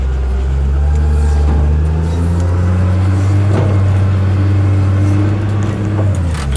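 A skidder with its tires stuck on wood, engine droning loud and steady close by with slight rises in revs, a heavy low rumble running the whole time.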